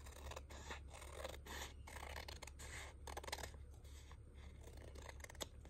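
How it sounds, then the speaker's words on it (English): Scissors snip and rasp through paper scraps during a crafting session, with quiet close-up cuts and scrapes in a near-silent room. "Get my scissors and edge that."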